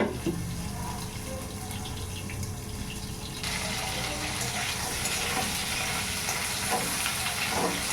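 Pointed gourd cooking in a pan sizzles steadily while being stirred, the frying growing louder and brighter about halfway through and continuing to the end.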